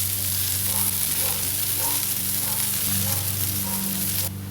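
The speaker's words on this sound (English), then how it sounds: "after they've been sitting there sizzling for a little while" Smash burgers sizzle on a 22-inch Blackstone griddle with a loud, steady crackling hiss, layered over a low constant hum. No one speaks.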